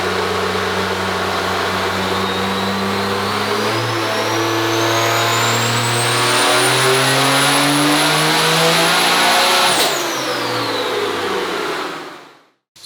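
A 4th gen diesel truck with a 472 single turbo roars through a full dyno pull, engine pitch and rising turbo whine climbing steadily for about ten seconds, then dropping sharply as the throttle lifts and fading to quiet.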